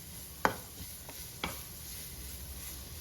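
Crushed chili is being stirred into onions sautéing in a pan for a Kerala-style tomato fry. A soft, steady sizzle runs throughout, broken by a couple of sharp spoon knocks against the pan.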